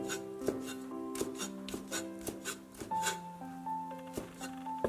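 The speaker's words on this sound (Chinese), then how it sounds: "先把鲮鱼切成块，稍微大一点，" A knife chops canned dace fish into fairly large pieces on a cutting board, giving a series of crisp, close knocks at an irregular rhythm with no talking.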